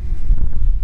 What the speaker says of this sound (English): So the wind is ripping a little bit more than I would like it to